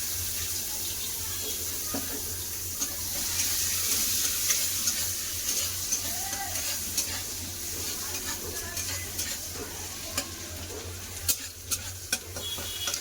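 Black cumin and chopped onion fry in oil in a wok, a steady low sizzle with clinks of stirring and a few sharp scrapes, close and continuous throughout.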